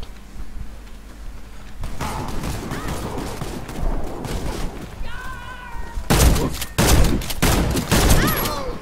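In the Warface video game, a gold Fabarm STF 12 Compact shotgun fires in quick bursts of loud blasts amid busy in-game noise, with a player talking over the action.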